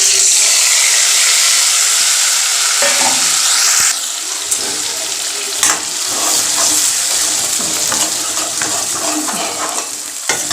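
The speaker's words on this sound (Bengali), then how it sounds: "এবার ভালো করে জিরে আর দারচিনির সাথে পালং শাকটা ভালো করে ফ্রাই করে নেব" Grated spinach and coriander sizzle loudly in hot oil with cumin and cinnamon, a steady broadband frying hiss with occasional louder stirring scrapes and bursts, close and continuous with no talking.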